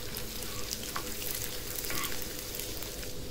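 Finely chopped garlic and ginger sauté in hot oil, giving a steady, close sizzle and crackle that runs evenly throughout with no talking over it.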